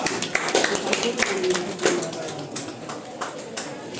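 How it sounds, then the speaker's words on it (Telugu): A crowd at a senior-category prize ceremony breaks into scattered, uneven clapping, with sharp individual claps that thin out over a few seconds. "ఒకసారి గట్టిగా చప్పట్లు అందరూ"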